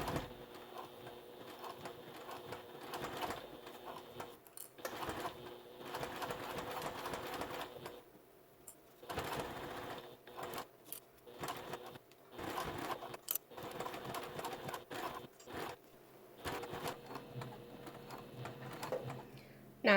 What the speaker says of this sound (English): I'm going to begin sewing